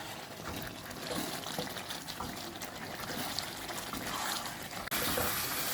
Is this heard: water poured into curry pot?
yes